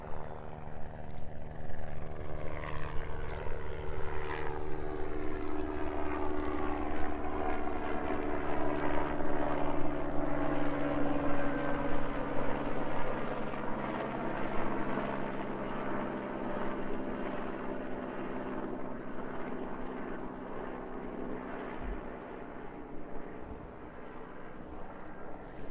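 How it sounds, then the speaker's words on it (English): Two helicopters lift off from Queenstown Airport in snowy alpine surroundings, a steady loud rotor and turbine roar with a slowly shifting whine as they climb away, continuous for the whole stretch. "2 helicopters out the door there for you"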